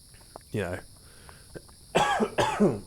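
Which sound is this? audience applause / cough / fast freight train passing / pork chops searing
cough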